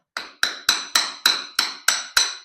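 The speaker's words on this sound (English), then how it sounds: "I have something pointy where I can actually hit things with the hammer" A hammer strikes a pillar in a man cave renovation eight times in a steady rhythm, each blow a sharp, close, loud knock with a short ringing decay, no talking.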